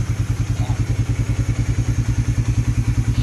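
Restored fire-damaged Suzuki Raider fuel-injected motorcycle engine running close by in rain, a fast, even thumping pulse with slight clatter, loud and steady throughout.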